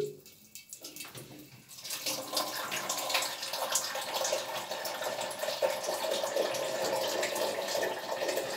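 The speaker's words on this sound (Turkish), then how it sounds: "İçindeki var olan suyu boşaltalım." Leftover water drains out of a faucet being removed from home plumbing after the main valve is shut, a soft trickle that swells into a steady, moderately faint splashing flow with no talking.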